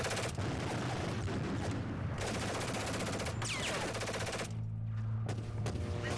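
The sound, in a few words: gunfire sound effects in a video game trailer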